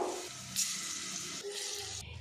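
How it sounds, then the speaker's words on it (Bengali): Papaya slices frying in hot oil, a soft, steady sizzle heard close and quiet throughout, with faint fluctuations in intensity. "বাকিগুলো আমি একইভাবে ফ্রাই করে নেব।"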